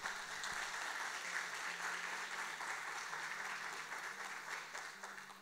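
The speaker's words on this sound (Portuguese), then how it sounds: "Aplauda o nome do Senhor." A church congregation applauds in a steady, sustained wash of clapping, even and continuous throughout, with a faint low hum underneath.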